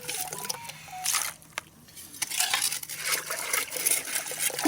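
Lake gravel and water are scooped into a metal gold pan on a lakeshore in northern Lower Michigan, with close splashing, gritty scraping and rattling of stones in uneven bursts and a short quiet gap.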